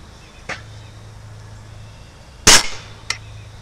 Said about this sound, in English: First one I fire will be the Gamo Whisper.